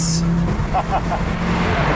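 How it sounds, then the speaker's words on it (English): A turbocharged, all-wheel-drive Audi Quattro's engine runs loudly up close, with a steady drone and some whining, while someone speaks briefly over it. "It was the first car in the world to mate all-wheel drive with a turbocharged engine."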